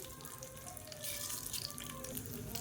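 Mustard seeds and curry leaves spluttering in hot sesame oil in a pan, a soft continuous crackle and sizzle, faint and steady with no talk.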